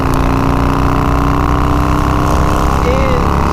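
A Harley-Davidson Fatboy with a 140ci motor rolls on the throttle in top gear on a highway, a loud, constant engine drone mixed with wind rush throughout.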